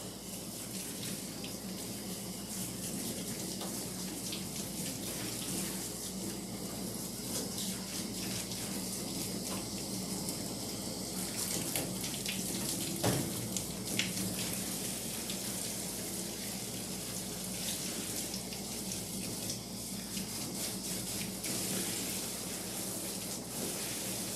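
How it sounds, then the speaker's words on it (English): Water sprays steadily from a hose while a dog is washed and its head wetted, a continuous hiss and gush with small shifts in flow, close and fairly quiet, no voices. "Now that the soap is out of the hose, I'm going to get her head wet, and then I'll wash first."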